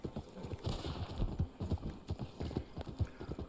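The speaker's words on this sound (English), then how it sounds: "Horse is going a little crazy right now." A horse gallops in the video game Red Dead Online, its hooves beating a quick, steady clip-clop rhythm close by, with faint background sound.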